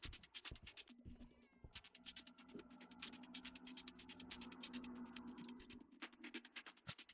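A pet cat in the Demonologist horror game gives a short, faint meow amid a quiet, steady ticking and soft background hum.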